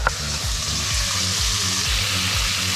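Garlic sizzles in a pan with onions and celery, a close, steady crackling fry with soft stirring scrapes throughout.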